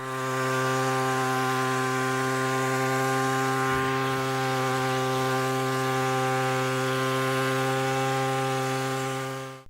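A motorized tea harvester on a tea plantation drones with a loud, steady engine whine that holds constant, with one brief crunch partway through as it cuts tea plants.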